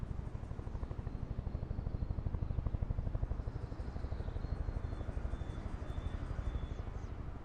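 A helicopter flying in Microsoft Flight Simulator 2024, steady rapid rotor chop pulsing evenly over a low engine drone, fairly faint and continuous with no voices.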